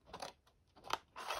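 Scissors snip through a paper gift box along a score line in three short, crisp bursts of cutting, close and fairly quiet with brief pauses between them.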